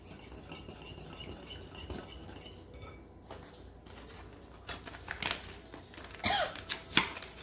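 Sugar-free chocolate pudding pie filling gets stirred in a bowl with a utensil, soft scraping and occasional clinks growing a little louder toward the end.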